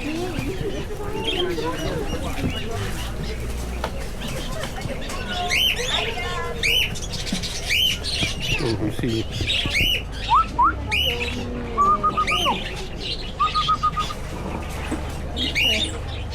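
Chickens and caged birds at a busy Malaysian morning market cackle, squawk and chirp in scattered bursts, fairly near, over a steady crowd murmur while people talk nearby.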